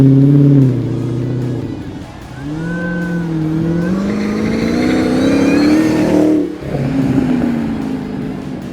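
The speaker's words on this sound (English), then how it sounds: "Oh my goodness, the supercharger noises." A supercharged 2020 Dodge Challenger Hellcat Redeye Widebody engine revs up and down in rising, falling sweeps with a whining supercharger tone layered over the deep roar, loud and close throughout.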